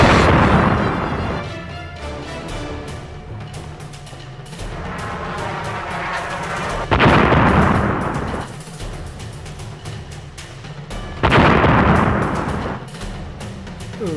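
Rocket launchers fire in a video game, with two loud booming blasts a few seconds apart rising above a steady rumbling game soundscape.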